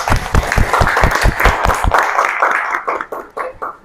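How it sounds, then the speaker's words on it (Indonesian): Classroom audience applauding a student group after their presentation: a burst of close, rhythmic clapping that thins out and fades to a few scattered claps. "Oke, tepuk tangan."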